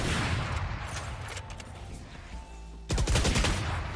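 Rapid gunfire bursts in the Valorant first-person shooter, a dense continuous volley under game music and ambience, with a louder, sharper cluster of shots breaking in near the end.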